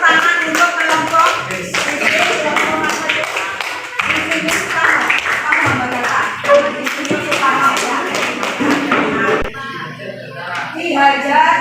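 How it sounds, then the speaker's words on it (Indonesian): A classroom audience applauds a presenting group with loud, dense handclapping that goes on for several seconds, mixed with voices and cheering, before thinning to scattered claps. "Tepuk tangan untuk kelompok"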